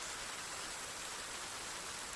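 Rain in The Pillars of the Earth game: a steady, soft, even hiss of falling rain, faint and continuous throughout with no talking.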